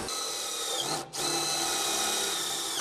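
A power tool drives bolts tight on a steel house frame at a modular home build site, giving a loud steady whine that drops out for a moment and then picks up again, with no voices.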